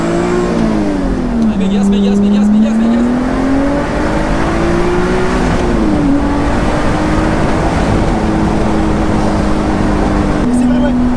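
Lotus Exige V6 S with a 3.5-litre V6 revs and pulls through the gears, its engine note rising and dropping steadily throughout, heard from inside the car under continuous talking.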